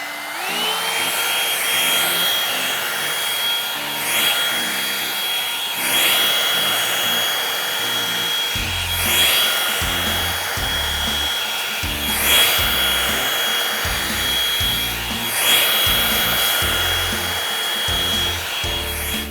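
A Revlon One Step volumizing hair dryer brush blows steadily while drying hair, a loud continuous whirring airflow with a faint high whine, interrupted by repeated brushing and rubbing strokes through the hair.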